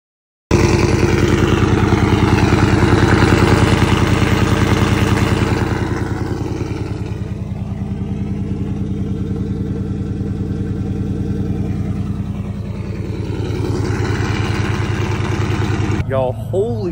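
A 2014 GMC Sierra 5.3 pickup with long-tube headers and Borla ATAK exhaust idles with a deep, loud exhaust rumble, steady and close, easing slightly in the middle before swelling again.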